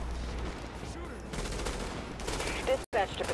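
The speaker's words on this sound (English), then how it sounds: "Oh, I hear the gunfire." Bursts of rapid gunfire crackle in the distance around a corner amid a busy Division game soundscape, with a brief cutout near the end.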